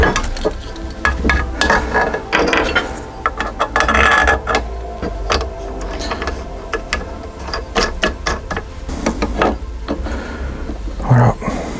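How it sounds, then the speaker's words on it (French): Original roof bars are screwed onto a Tesla Model 3 with a hand tool, giving close, irregular ratcheting clicks and mechanical rattles in short bursts, with some handling noise between them. "normalement, je peux visser mes deux côtés"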